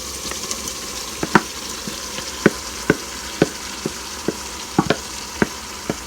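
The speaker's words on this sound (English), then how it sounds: "what we're going to do is we're going to cook all these vegetables in there right now." Vegetables cook with ground beef in a stovetop chili pan: a continuous soft sizzle, punctuated by a dozen or so sharp, close clicks and taps as the mix is stirred.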